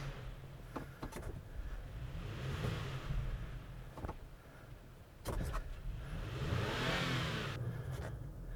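A 2021 Toyota Tacoma Nightshade pickup reversing in snow, its engine revving up in two surging pushes and dropping back between them, heard from close by.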